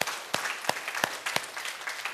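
A church congregation applauds, a full wash of clapping punctuated by strong, evenly spaced collective claps that keep a brisk rhythm.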